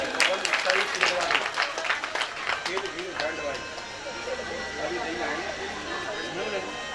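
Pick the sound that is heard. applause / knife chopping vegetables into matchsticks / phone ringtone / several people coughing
applause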